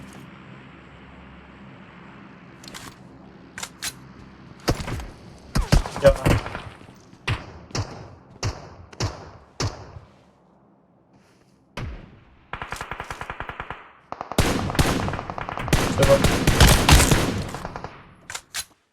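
Game gunfire in PUBG Mobile crackles in sharp single shots and rapid automatic bursts, loud and close, separated by quieter stretches with faint voices and ending in a dense, sustained volley.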